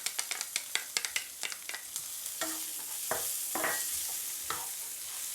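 Onions hit a pan of bacon that has been cooking a few minutes: a quick run of sharp clatters and drops, then a bright continuous sizzle with a few spatula scrapes, fairly quiet and without talk.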